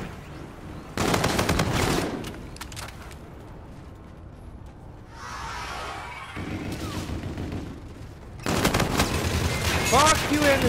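Turret gunfire in an online shooter game comes in two loud, dense bursts of rapid shots, separated by quieter game noise and a muffled rumble.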